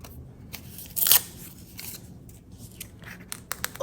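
Scissors snipping strips off the backs of card for a Halloween junk journal, a few sharp close crunchy cuts with one prominent snip, alongside quiet paper handling and rustling.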